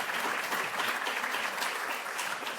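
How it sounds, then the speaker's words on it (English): An alumni weekend audience applauds two speakers after a case study on the 425 Park Avenue tower, giving dense, even clapping that stays at a moderate level throughout. "Let's give a round of applause for Joe and Jeff"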